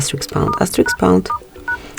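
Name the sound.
keypad dialing tones entering a secret code on a Motorola Moto G9 Play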